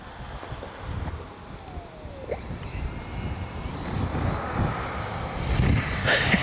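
An Arrows RC Marlin 64 electric ducted-fan model jet whooshes past during a touch-and-go, its fan whine rising and swelling as it draws nearer, over steady outdoor wind noise.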